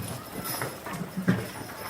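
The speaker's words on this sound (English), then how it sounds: "our horse is named Carlos" Hooves of a carriage horse clip-clop steadily on pavement during a rainy January carriage tour in Charleston, a moderate rhythmic clatter heard with a low background murmur.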